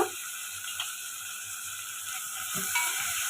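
Tomato and mixed vegetables for a vegetable pulao cooking in a pan, a steady soft sizzle with faint scraping clicks, close and fairly quiet, with no talking.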